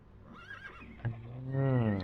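Horse neighing in the Battle Realms video game, a single drawn-out whinny rising in pitch and ending in a loud, close, quavering call, preceded by soft clip-clop and rustling.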